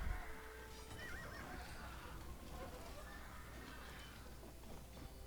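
Horses neigh and whinny repeatedly in the Age of Empires II video game, with hooves clip-clopping over a steady din of battle, all faint and continuous.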